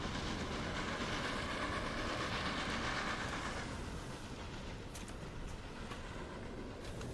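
A train runs in the railway-building game Transport Fever 2, giving a continuous, even rumble with light rail clatter throughout and nobody talking.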